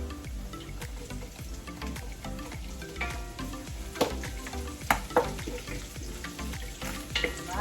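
Chopped onions sautéing in a hot pan for a rainy-day dish, a steady close sizzle with frequent stirring clatters and scrapes of the utensil against the pan, with no voices.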